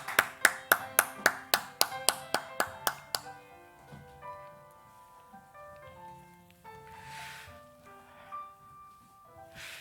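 Church congregation at a Sunday morning worship service clapping in blessing, a burst of about a dozen sharp, evenly spaced claps that stops abruptly, followed by quieter resonant tones and soft rustling in the hall.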